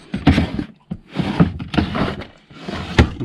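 Wooden drawers in a workshop being pulled open and shoved shut while someone rummages for a Honda motorcycle part, giving four loud, close bursts of sliding and knocking separated by short pauses, with no talk.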